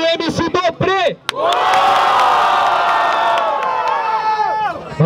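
Loud crowd at a Guarulhos freestyle rap battle erupts in sustained cheering, whooping and shouting, a dense roar that holds steady for several seconds after a brief voice at the start.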